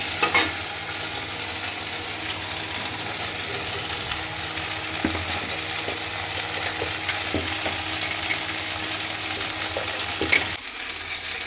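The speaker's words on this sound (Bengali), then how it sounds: "লাল লাল ভাজা না হলে মশলা কষানো হবে না" Potatoes and spices frying in oil for a katla fish curry: a continuous close sizzle with spatula scrapes and stirring clicks, ending in a brief clatter.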